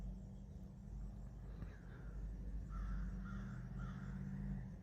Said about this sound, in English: these wild birds trying to attack that possum over there